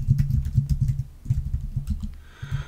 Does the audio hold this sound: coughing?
no